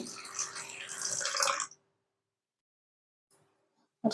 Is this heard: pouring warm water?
yes